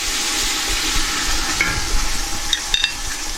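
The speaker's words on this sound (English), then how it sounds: "make sure you fry that" Coconut milk fries in a pan for a Thai peanut satay sauce, giving a steady bright sizzle with a few soft stirring scrapes and clicks.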